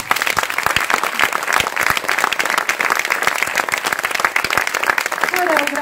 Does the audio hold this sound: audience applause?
yes